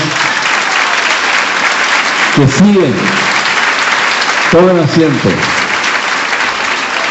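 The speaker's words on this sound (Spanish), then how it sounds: "Un aplauso fuerte a estas personas" A church audience at a charismatic renewal gathering applauds steadily throughout, a broad continuous wash of clapping while someone speaks over it twice.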